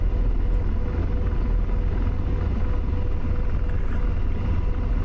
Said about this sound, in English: let's get back into the cockpit of the Apache